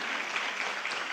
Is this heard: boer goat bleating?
no